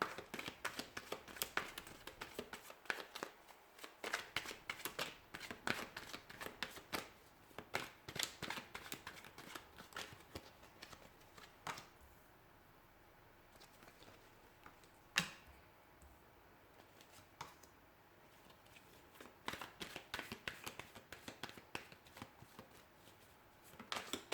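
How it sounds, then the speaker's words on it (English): Tarot cards shuffled by hand in repeated riffling bursts with soft slaps and pauses between, close and clear with no talking. "So we'll go ahead and give the cards a shuffle here"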